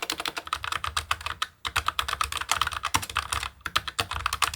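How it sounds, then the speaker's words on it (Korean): Typing on a Logitech MX Mechanical Mini low-profile keyboard with brown switches: close, rapid clusters of fairly soft clacks in an uneven rhythm, broken by a couple of brief pauses, with no voices. "MX 메케니컬 미니는 갈축 사용으로 타건 소리가 안 나는 건 아니지만은 나름 조용한"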